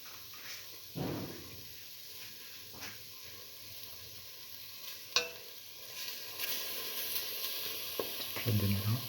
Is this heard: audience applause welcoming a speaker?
no